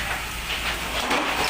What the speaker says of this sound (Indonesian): Kita melihat bahwa keadaan cuaca di sini masih gerimis.